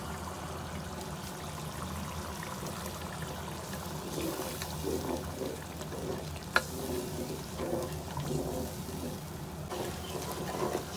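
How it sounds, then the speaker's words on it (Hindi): Ground onion paste frying with spices in a pot for kofta curry, a steady sizzle with soft stirring scrapes and a bubbling, trickling texture, close and moderately quiet with no talking. "एक से 2 मिनट हमने प्याज को भी भून लिया है।"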